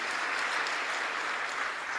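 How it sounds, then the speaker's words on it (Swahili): An audience claps in a brief burst of steady, dense applause at an official dividend presentation ceremony for the President, with no speech over it. "Makofi."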